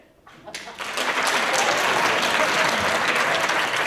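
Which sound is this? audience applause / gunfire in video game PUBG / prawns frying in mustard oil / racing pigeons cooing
audience applause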